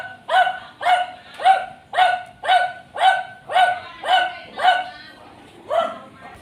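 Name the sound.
dog barking in a subdivision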